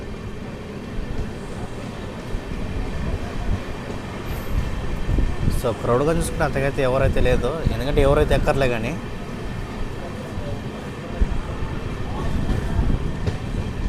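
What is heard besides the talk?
Amrit Bharat Express train stopped at Ongole station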